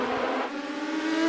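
Race cars at the Nashville Fairgrounds accelerate hard off the green flag start of the INEX Spring Nationals, a close, loud, sustained engine roar climbing in pitch with no break.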